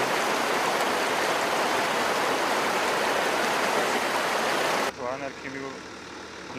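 The Mashavera river in Georgia, polluted by discharged wastewater, gives a loud, steady rushing of flowing water. The sound cuts off abruptly near the end, and a voice starts speaking.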